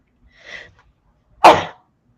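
A brief sharp intake of breath, then a single loud, explosive sneeze close to the listener, with no talking.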